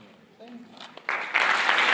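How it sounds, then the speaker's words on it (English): Audience applause for panelists at a panel discussion, starting abruptly after a spoken line and building into steady, fairly close clapping. "I think it will be fair that we give them another round of applause."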